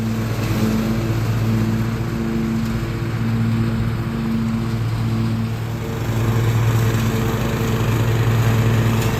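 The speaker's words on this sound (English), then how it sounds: "We're out here mowing." A lawn mower cuts grass on open rural land on a mild day, its engine droning steadily nearby with a slight dip and swell in pitch and loudness as it moves across the property.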